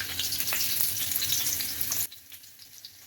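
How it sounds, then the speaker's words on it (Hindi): Garlic fries in hot cooking oil, a dense crackling sizzle that holds steady, then abruptly drops to a quieter, thinner spatter partway through. "सबसे पहले मैं इसमें गार्लिक डाल दूँगी"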